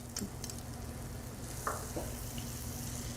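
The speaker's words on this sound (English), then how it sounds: "That's a good sear sound." Food searing in a hot pan while a grilled cheese cooks, a steady sizzle with a few sharp clicks and taps of a utensil against the pan, close and alone without talk.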